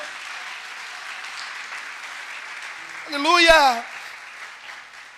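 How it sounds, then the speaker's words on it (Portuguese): A church congregation applauds during a Protestant communion service, a steady wash of clapping throughout, with one voice shouting out loudly over it near the end. "Vamos dar um aplauso a esse Senhor neste dia."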